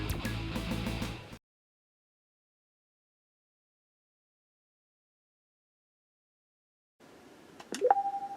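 Super Famicom NTT modem dialing, a short burst of stacked tones cut off into silence, then after a long pause a faint hiss and a rising chirp settling into a steady electronic beep.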